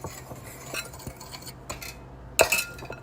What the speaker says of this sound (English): I'm gonna give this a quick whisk.